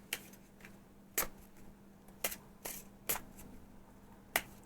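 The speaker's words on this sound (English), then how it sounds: "let's shuffle these up" Playing cards are shuffled and riffled during a tabletop board game session, giving several sharp, separate snaps and bursts spaced a second or so apart, close by in a quiet room.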